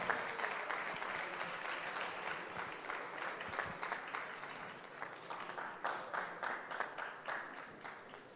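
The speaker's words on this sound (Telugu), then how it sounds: "అందరూ కూడా చేతులతో చప్పట్లు కొడుతూ చంద్రబాబు గారిని మన మధ్యకు ఆహ్వానిద్దాం" A large audience at a Christmas event applauds to welcome Andhra Pradesh Chief Minister Chandrababu Naidu onto the stage: steady, dense clapping that swells into distinct bursts toward the end, heard from a moderate distance.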